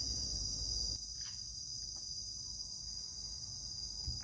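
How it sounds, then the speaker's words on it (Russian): Cicadas shrill in a steady, high-pitched drone near a natural rock outcrop in Laos, the loud buzz dropping off abruptly after about a second and leaving a fainter outdoor hum. "Цикады верещат."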